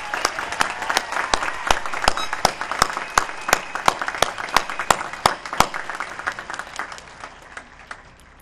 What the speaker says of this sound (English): Ladies and gentlemen, please, let's give the class of 2022 a huge round of applause.